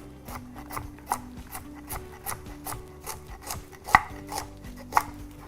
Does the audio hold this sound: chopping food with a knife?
yes